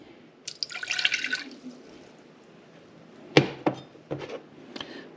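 Water is poured into a pot for pickling brine, a short splashing pour near the start followed by several sharp clinks and knocks of containers, fairly quiet overall.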